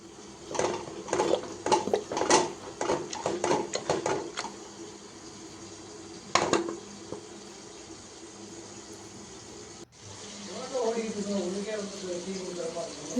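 Cooked lentils being mashed in a pot with a wooden churner, a quick run of rhythmic knocking strokes at first, then a lone knock, followed by quiet bubbling, close up and fairly soft.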